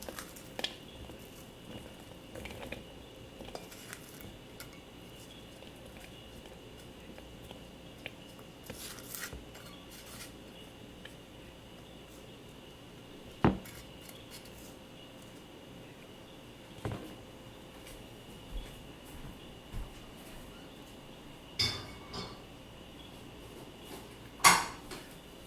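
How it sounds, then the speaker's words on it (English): Cooked lentils spooned from a pot into a bowl, with faint occasional clinks of a utensil against the dishes over a quiet background. "We're gonna put them in our bowl."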